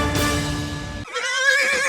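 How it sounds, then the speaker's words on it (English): A wild stallion neighs loudly and close in a radio advertisement, a harmonic whinny that ends abruptly and gives way to a shorter, breathy snort-like call. "Is that a horse? Actually, it's a wild stallion."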